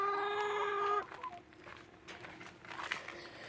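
Hens in a small chicken house give a loud, drawn-out squawk up front, then scattered clucks and soft murmurs fade in and out against a low indoor hum.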